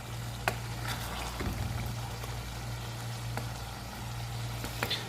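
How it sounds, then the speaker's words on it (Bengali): Liver and tomato sizzle steadily in hot oil with garlic in a pan, a continuous close frying crackle with a low hum beneath and a few sharp pops. "তেল সব কিছু দিয়ে একটু কষাইলাম, তারপর কলিজা দিলাম"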